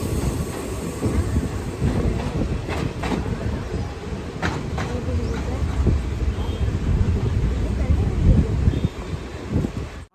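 Unreserved passenger train between Tirunelveli and Tiruchendur rolling along the rails, heard from inside with a steady rumble, rhythmic wheel clatter and a few sharp clacks, plus wind buffeting the microphone and background voices.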